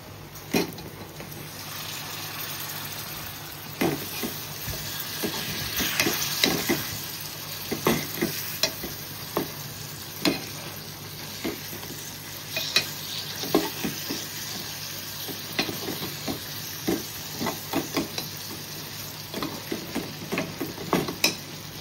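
Steady sizzling of fish frying in a pan with turmeric and Agri masala, with scattered clinks and scrapes of stirring throughout and no voices.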